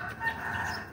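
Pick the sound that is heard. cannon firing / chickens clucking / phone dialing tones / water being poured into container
chickens clucking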